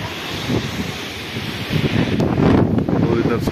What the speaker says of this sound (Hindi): 100 किलोमीटर/आवर की रफ्तार से ये हवाएं चल रही है।